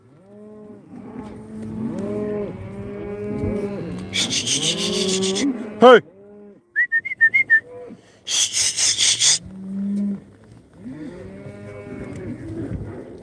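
Cattle moo repeatedly while being gathered and sorted on a ranch, loud overlapping calls from several animals close by, broken by short bursts of clattering noise and a whistle, with a person briefly calling out.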